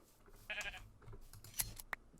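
Sheep bleat in a crafting video game, one wavering bleat early and then short snips and clicks, all faint and sparse over quiet ambience.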